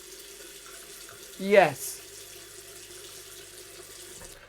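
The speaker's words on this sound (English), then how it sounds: "Is there good flowing water?" Water running from a bathroom tap at a holiday park in Hastings, a short burst of flow that quickly fades to a quiet room, with one brief word spoken.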